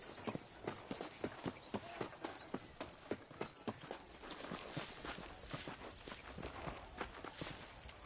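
Steady clip-clop of horse hooves while riding in Red Dead Redemption, a regular rhythmic gait of sharp, fairly close hoofbeats that blurs into a quicker, denser patter toward the end.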